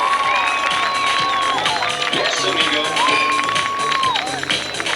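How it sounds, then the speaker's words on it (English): Crowd cheering and applauding at a 1993 water ski show tournament, a steady loud wash of voices and whoops with shouting and whistles over it, while an announcer talks throughout. "Let's have a big round of applause once again for Chad and Jeff."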